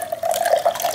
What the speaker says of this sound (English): I can also completely open the spigot like most spigots.